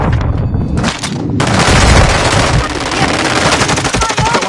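Heavy automatic gunfire in a Call of Duty firefight, loud sustained bursts of machine-gun fire with overlapping shots filling the whole stretch, no pause.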